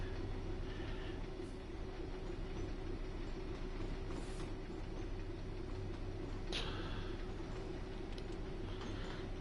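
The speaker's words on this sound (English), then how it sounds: "Underground train coming in." A London Underground train pulls into Ealing Broadway in the Train Sim World 6 game, a continuous rolling rumble with a steady electric hum and brief metallic squeals and clicks as it approaches.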